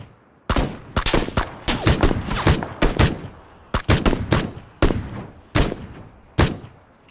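Sniper rifle gunshots in the video game PUBG, a string of loud sharp cracks with irregular gaps between them, each followed by a brief echoing tail.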